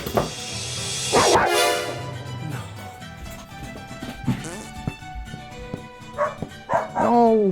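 Dogs bark and yip in short bursts, fairly close, with voices talking over and between the barks.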